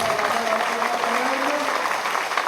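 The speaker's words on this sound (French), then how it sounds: "Applaudissez bien dans la joie." A crowd claps steadily and joyfully at a festive Franciscan vigil in Lourdes, continuous dense applause throughout with a faint sung or spoken voice threading underneath.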